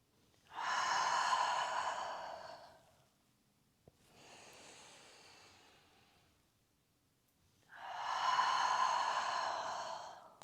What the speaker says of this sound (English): Inhale, contract. Exhale, relax.